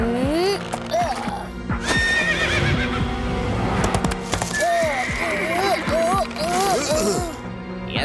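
A black horse neighs and whinnies repeatedly, its calls rising and falling over the thud and clatter of hooves close by, with voices talking in the background.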